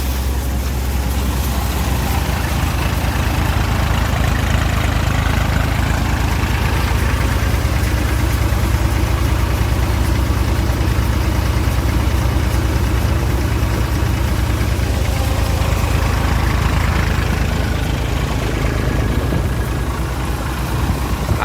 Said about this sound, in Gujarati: આ ટ્રેક્ટર ન્યુ હોલેન્ડ 3030 35 હોર્સ પાવરનું છે